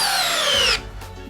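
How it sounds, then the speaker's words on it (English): DeWalt 12V drill driving a 6-inch TimberLok screw in speed 2, a loud steady motor whine that drops in pitch as the long fastener bites into the wood, then cuts off into quieter handling noise. "And now a 6-inch timber lock in speed 2 with the Dewalt."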